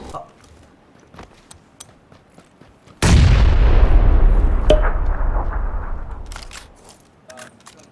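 A grenade goes off in PUBG: one sudden, loud blast followed by a long rumbling decay that fades over several seconds. Quieter game sounds come before it.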